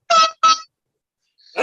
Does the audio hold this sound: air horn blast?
yes